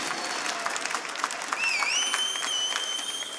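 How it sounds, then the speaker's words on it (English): Esports arena crowd cheering and applauding during a pool-table round, a sustained wash of clapping with some whistles, moderately loud and fairly distant. "The crowd has woken up"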